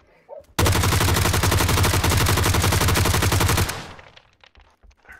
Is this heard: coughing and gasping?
no